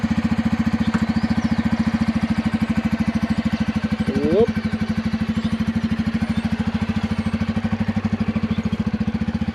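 A Rouser N250 motorcycle engine runs steadily nearby, a fast, even putter that continues throughout without a break.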